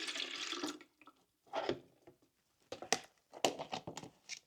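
Excess water is poured off seedling trays of wet soil in an indoor hydroponic grow tent, with close splashing gushes in several short bursts separated by quiet pauses.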